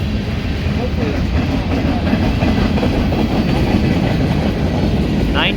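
A CSX freight train hauling oxygen and liquefied petroleum gas tank cars rolls past nearby, a loud, continuous rumble with steady wheel clatter and a brief squeal near the end.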